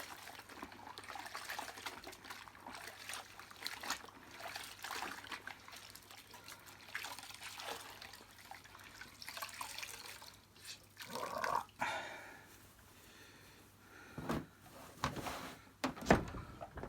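Quiet trickling and splashing as cleaning cloths are rinsed out in water, with occasional louder sloshes toward the end and a faint steady hum underneath.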